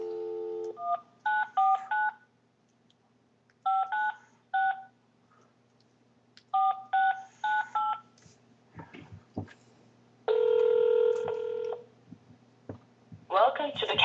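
Telephone keypad dialing tones in several quick bursts of beeps, with pauses between groups, followed by longer electronic tones and brief voice-like sounds near the end.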